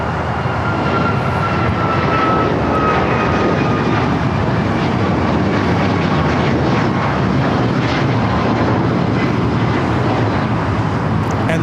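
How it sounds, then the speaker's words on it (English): United Airlines Boeing 737 MAX 9 taking off from LAX bound for Orlando, a steady loud broadband jet roar holding continuously throughout. "1621 taking off to Orlando, Florida on the MAX 9"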